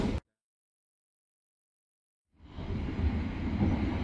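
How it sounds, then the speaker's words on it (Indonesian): An economy-class Cikuray passenger train from Garut to Jakarta passing close by, its rumble rising abruptly after a brief silence and holding loud and steady to the end. "Papasan dengan kereta api Cikuray dari Garut ke Jakarta"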